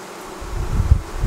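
Buckfast honeybees hum in a steady, low, close-up drone during a hive frame inspection of nucleus colonies on a mild day of about 15°C, with no smoker in use and a faint soft rustle.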